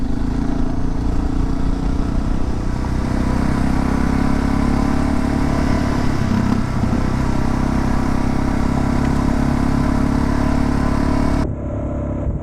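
A motorcycle engine idles steadily in neutral after a gravel back-road ride, a loud, close, continuous low rumble that holds for about eleven seconds before cutting off abruptly near the end.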